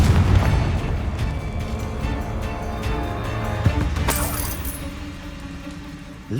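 Confringo blasting spell from the video game Hogwarts Legacy, a loud rumbling burst that decays slowly and is followed by a second sharp crackling blast with a lingering tail.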